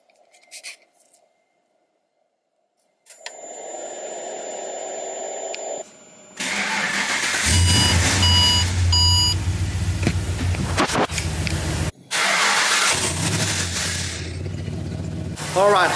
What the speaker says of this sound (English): Try to turn the car on without sitting inside it